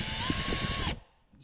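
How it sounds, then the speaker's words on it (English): A power drill bores an eighth-inch hole in a running board support, whirring loud and close for under a second before cutting off abruptly, followed by a brief faint mechanical tail. "we just drilled an 1/8 inch hole"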